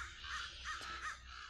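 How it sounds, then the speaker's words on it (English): Loud crows cawing repeatedly, several harsh calls in a steady run close by, with no one talking. "These birds are loud."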